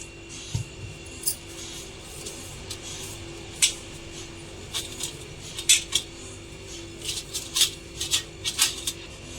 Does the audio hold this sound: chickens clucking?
no